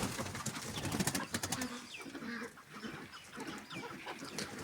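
Partridges and their chicks call in a pen, a busy mix of clucks and high cheeping peeps close by, with scuffling noises throughout.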